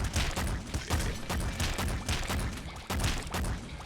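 Shotgun blasts from the video game Enter the Gungeon, fired in quick succession as a dense, loud volley of booming shots over a continuous layer of game noise, with no voices.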